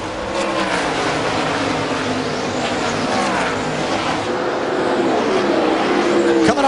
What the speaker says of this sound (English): 84 car they've just gone around is Dion Ciccarelli